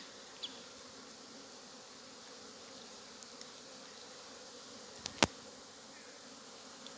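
Honeybees pouring out of a hive in sunshine make a steady, continuous buzzing hum that stays even throughout, with a couple of brief sharp clicks near the end and no voices.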